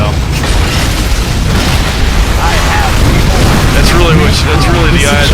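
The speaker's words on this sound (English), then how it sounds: "he just dropped a bomb" In an Unreal Tournament 3 Warfare match, a dense, loud bomb blast rumbles amid continuous gunfire and game noise, with a player talking over the chaos.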